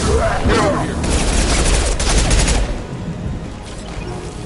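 Dense, sustained gunfire and explosive thumps fill a Mass Effect 2 firefight, loud and close, easing off near the end, with battle chatter mixed underneath.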